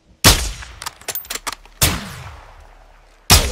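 Sniper rifle shots in the Call of Duty Modern Warfare II campaign, with three loud sharp reports, each trailing into a long echoing decay, plus a quick cluster of smaller clicks and impacts between the first two.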